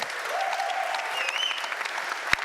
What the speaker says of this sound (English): Give them one round of applause